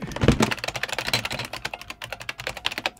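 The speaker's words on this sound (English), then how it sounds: "Let's see if this ancient keyboard will work with all this new modern equipment." Rapid, loud clattering of a 1984 computer keyboard hooked up to a modern USB-C Thunderbolt docking hub, dense continuous keystrokes typed up close with no voices.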